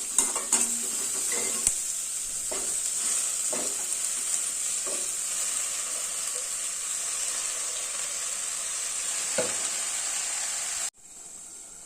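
Chopped palak spinach, washed and drained, sizzles and hisses steadily in a hot pan, with scattered scraping clicks of a spoon stirring it throughout before the sound cuts off abruptly near the end.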